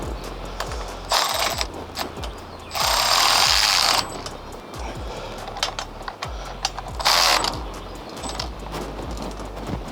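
A ratchet snugs up a 9/16 bolt on a roll-off truck tarp system, clicking in steady rapid runs, close and loud, broken by a few louder mechanical whirring bursts.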